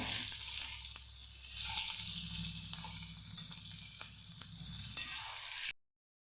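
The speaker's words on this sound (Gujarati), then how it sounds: "તો અહીંયા આપણા મરચાં એકદમ મસ્ત એવા કતળાઈ ગયા છે" Stuffed green chillies frying in a pan, a steady close sizzle with occasional soft stirring clicks, running continuously before cutting off abruptly near the end.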